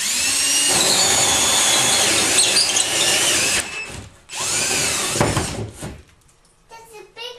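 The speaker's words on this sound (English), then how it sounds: "First off, we drill a hole." A power drill bores a large hole through a wall for an AC line set while converting a window unit to a split system. It runs loud and steady for about three and a half seconds, pauses briefly, then whines again in a second burst.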